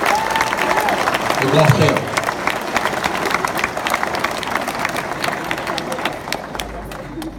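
A crowd at a question-and-answer event in Guadeloupe breaks into dense applause with some cheering, swelling early then thinning, while someone speaks over it.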